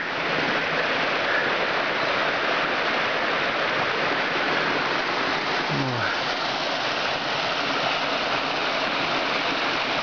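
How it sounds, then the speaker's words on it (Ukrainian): Narynets waterfall in wild countryside roars as a steady, loud broadband rush of falling water throughout, with a brief low sweeping sound partway through. "От він, в всій красі. Нарінецький водоспад"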